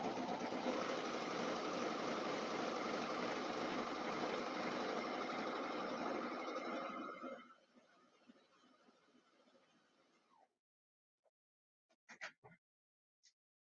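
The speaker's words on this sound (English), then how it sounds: "when I sit down at my serger, all I have to do is stitch" A Brother Airflow serger stitches fabric with a fast, loud, continuous mechanical whir, then slows and stops, leaving faint clicks and handling noises.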